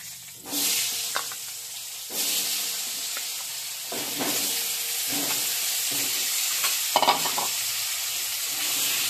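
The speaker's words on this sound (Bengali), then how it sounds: "এবার এই তেলে আলুগুলো ভেজে নেব।" Potatoes frying in hot oil in a home kitchen, a continuous loud sizzle and hiss broken by several bursts of stirring and scraping, close up with no talk.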